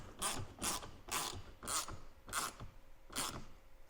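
A ratchet wrench tightening bolts on a soft top mount of a 2023 Polaris Ranger 1000XP, heard as seven evenly spaced, close ratcheting clicks in a steady rhythm, with no talk.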